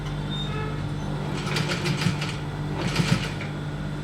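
Sewing machine stitching a single welt pocket on a senator garment, running in two short bursts of rapid, steady stitching close by over a constant background hum, with no talk.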